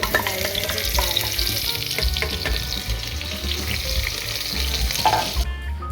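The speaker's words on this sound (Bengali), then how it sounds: "পেঁয়াজটা ভাজা ভাজা হয়ে গেলে দিয়ে দেবো ম্যারিনেটেড মাটন পায়াটা" Marinated mutton paya sizzling loudly with browned onions in a hot pan, a steady dense frying hiss with occasional stirring scrapes, heard alone and close throughout.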